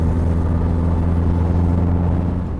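A 1930 Blower Bentley's supercharged engine drones loudly and steadily from inside the car on the Silverstone circuit during a double-clutch gear change, a dense low rumble that holds nearly even throughout.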